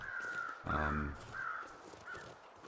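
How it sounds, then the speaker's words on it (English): Crows caw overhead in the survival game The Long Dark, a few harsh calls, one louder and nearer than the rest, over a quiet outdoor ambience. "you see how those birds are flying around up there?"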